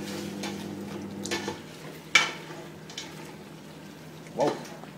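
A utensil scrapes and clinks in a pot while sinampalukang chicken with fish sauce is stirred, a few close, sharp scraping strokes over a low background hum.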